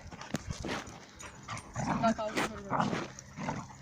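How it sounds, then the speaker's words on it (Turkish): Stray dogs growl and bark in scuffling bursts nearby on a mountain, with overlapping snarls and a voice talking in the background. "Videoda köpekler kavga etti."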